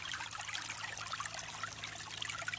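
Water trickles slowly down a gold sluice, a soft, steady babbling and dribbling, faint but continuous, with a low hum underneath.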